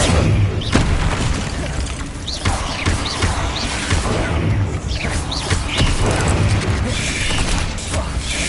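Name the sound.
Incendio fire spell being cast in video game Hogwarts Legacy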